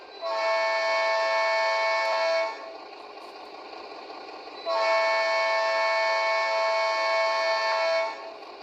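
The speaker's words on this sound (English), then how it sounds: "Horn is playable, it says. There's a short blast there for you." Two long, loud, steady blasts come from the horn of a Piko HO Krauss Maffei ML4000 model locomotive, each about two to three seconds long and separated by a pause with a low background hum.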